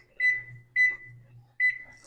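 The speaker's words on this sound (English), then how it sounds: "Set my timer." A kitchen timer set while biscuits bake gives three clear, close electronic beeps at uneven intervals, with faint room noise in between.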